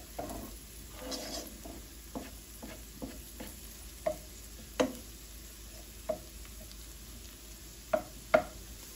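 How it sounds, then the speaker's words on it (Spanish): Garlic fries in a pan with a soft continuous sizzle, while sharp scraping and tapping strokes from stirring land every second or so, close and moderately loud, with no talking. "Ahorita le vamos a incorporar el ajo."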